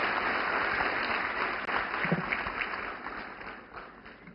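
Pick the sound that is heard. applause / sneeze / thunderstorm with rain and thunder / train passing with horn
applause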